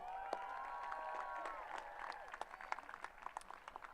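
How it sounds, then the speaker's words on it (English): Applause from a college commencement audience, faint and spread out at first beneath a lingering tonal sound, then growing into scattered, distinct claps toward the end. "Last applause."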